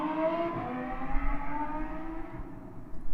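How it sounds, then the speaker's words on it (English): Cars passing outside a house doorstep, a continuous loud traffic roar with engine drone rising and fading as vehicles go by, no voices. "Can you guys hear those cars or do you not hear that?"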